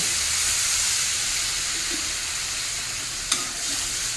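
Water poured into a pan of well-fried spice masala for a Bengali chorchori of bitter gourd, sweet potato, potato and eggplant. A steady, loud sizzling hiss runs throughout, with one sharp click near the end.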